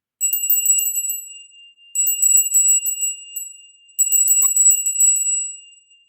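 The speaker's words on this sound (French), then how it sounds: "Je vais prendre votre énergie et le mien avec ma petite cloche" A small handbell rings in three separate bursts of rapid tinkling, bright and clear against silence, each burst fading before the next.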